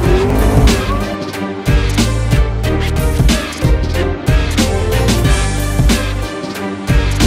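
A green McLaren 650S sports car pulls away with loud engine roar and tire squeal, the noise close and continuous with bursts of acceleration.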